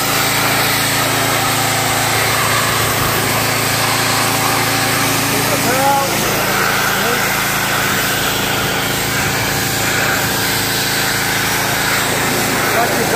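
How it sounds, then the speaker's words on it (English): A Stihl RB 200 pressure washer running close and loud with a continuous engine drone and spray hiss throughout, with scattered voices over it. "This is how we use the pressure wash."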